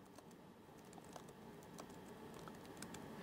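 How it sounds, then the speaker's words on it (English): Someone types on a computer keyboard, quick irregular clicks and taps close by, quiet and continuous with no voices. "There's a question for you that I am actually typing it down for you."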